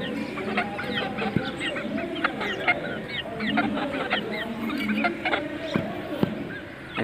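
A flock of Aseel chickens clucks steadily in a village yard, with overlapping calls near and far and a few faint voices in the background.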